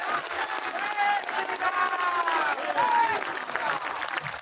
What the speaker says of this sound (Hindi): अरे भैया जरा दोनों एक साथ जोड़े से ताली बजाइए हनुमान जी के दरबार में